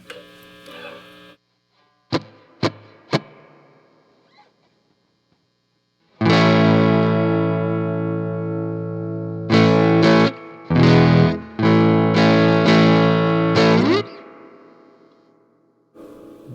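Electric guitar through a tube amp with negative feedback switched off, played on the neck pickup: a few plucked notes over low buzzing hum, then loud, sustained, gritty chords ringing for several seconds, with brief breaks before the hum returns.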